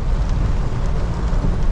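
Heavy rain and storm noise during a Bolero drive on a village road, a dense, steady low roar of downpour and wind that fills the clip continuously without a break.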